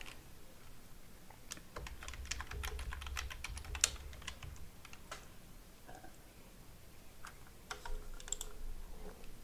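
Fingers type a password on a computer keyboard, with quiet, irregular bursts of key clicks and short pauses between them, close and alone.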